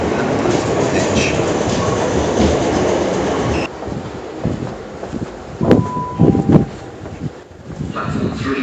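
A train with eight carriages at a Vauxhall station platform rumbles loudly and steadily, then quiets into softer rolling with a few sharp clicks and squeaks as it settles.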